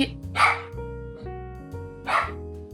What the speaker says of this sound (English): if you can hear my dogs, you didn't